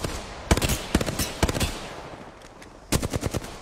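Burst-fire Hemlock gun shots in an Olympus video game match: short, sharp clusters of loud, close gunfire separated by brief pauses, with a quieter gap before a final rapid volley.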